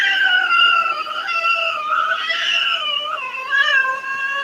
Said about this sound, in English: I pissed the cat off